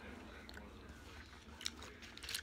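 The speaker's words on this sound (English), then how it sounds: "I'm gonna be putting all these sticks of gum in my mouth. Gonna be chewing them all up." Several sticks of Doublemint gum chewed at once, soft wet crunching and biting close to the mouth, faint and continuous with small clicks and smacks.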